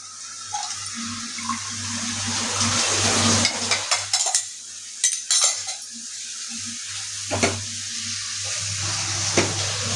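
Prawn gravy cooking in a pan on a gas stove, with a low steady burner hum and sizzle broken by clanks and scrapes of pots and utensils, moderately loud with no voices.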